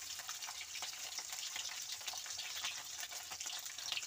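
Tilapia fillets fry in hot oil in a pan, giving a steady, dense sizzle and crackle that runs the whole time with small spattering pops, close up and with no talking.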